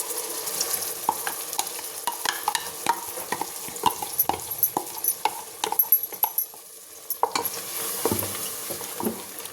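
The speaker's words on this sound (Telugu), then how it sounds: "ఇదంతా బాగా ఆయిల్లో ఫ్రై చేసుకుందాం." Ground masala paste, added after tomatoes, is stirred and fried in hot oil for a flat bean curry, giving a close sizzle broken by repeated scraping and clinking strokes of a spoon against the pan.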